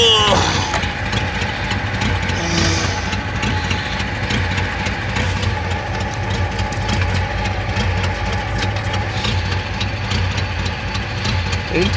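A Chevrolet Monte Carlo engine on a cold spring start, idling continuously with a steady mid-low rumble and faint knocking close by, with a voice speaking over it.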